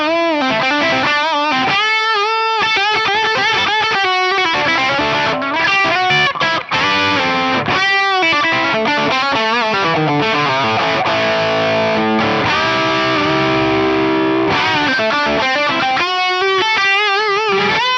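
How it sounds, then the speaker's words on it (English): Electric guitar played through a BOSS OD-200 overdrive/distortion pedal set to fat distortion mode, loud saturated chords and riffs with sustained notes, played alone without talk. "Let's try the fat distortion."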